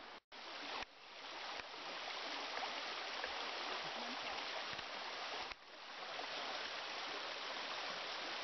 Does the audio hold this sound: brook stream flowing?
yes